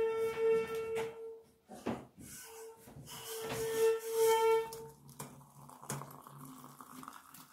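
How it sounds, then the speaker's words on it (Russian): A kettle heats water for tea, giving off a close, uneven hiss and rising bubbling with a thin whining tone, broken by a few light knocks and shuffles. "Он чай кипит сейчас"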